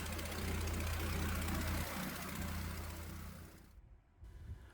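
A diesel engine idles on a 60% vegetable oil fuel mix, a loud steady low rumble with rhythmic knocking that gradually fades out near the end.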